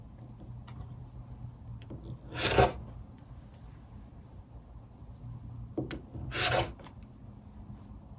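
Rotary cutter slicing through quilting fabric on a mat, heard as two short rasping strokes a few seconds apart against a quiet room background.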